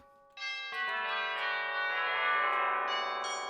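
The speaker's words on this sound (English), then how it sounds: "Yay, tubular bells for everyone's Christmas music that they're going to make." Tubular bells in the video game Dreams ring out in a bright, sustained chord that swells and holds, with a couple of fresh strikes layered on near the end, close and clean with no talking.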